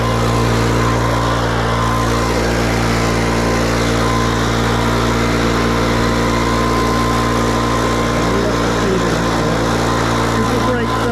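Petrol strimmer cutting down overgrown, seeding lawn grass, a loud continuous engine drone with steady pitch for the whole stretch, close and uninterrupted.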